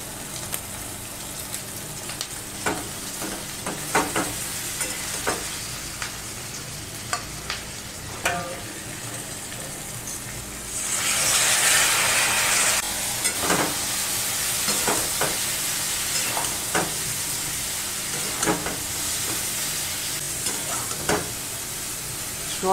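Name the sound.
soybeans frying and stirred with fried onion and garlic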